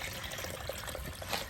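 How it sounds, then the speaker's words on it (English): A tiny garden waterfall feeding a little stream bed trickles and splashes softly nearby, a continuous faint babble with a few brighter drips. "check that out, the world's tiniest waterfall."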